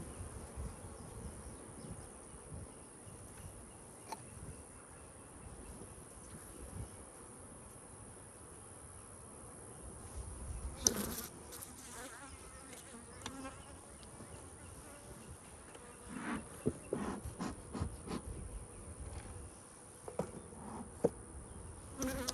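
A steady, faint buzz of many honey bees around an opened hive in an apiary hums throughout, with occasional soft knocks and rustles of hive frames nearby.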